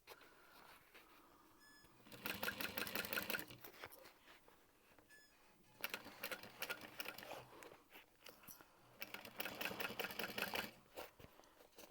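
Sewing machine stitching a handbag seam, running in three bursts of rapid mechanical whirring separated by quieter pauses, close and fairly loud with no talk.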